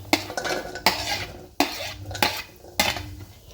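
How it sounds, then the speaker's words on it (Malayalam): Jackfruit seeds tipped into a cooking pot in several distinct bursts, each a clattering rattle of hard seeds against metal that fades out, about five drops spaced irregularly, close and clear with no talk. "നമുക്കൊരു പാത്രത്തിലേക്ക് ചക്കക്കുരു ഇട്ട് കൊടുക്കാം"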